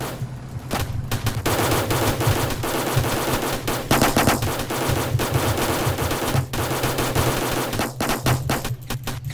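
Rapid, sustained automatic cannon fire in the Roblox game Armored Patrol rattles on continuously, dense bursts of shots layered over a low rumble, loud and close throughout.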